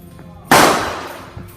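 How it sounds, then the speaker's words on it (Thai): A single sharp gunshot rings out at an indoor shooting range against a quiet background, followed by a brief echoing decay, as if fired nearby. "ได้ยินเสียงนะครับ การยิงปืนอยู่ด้านในนะ"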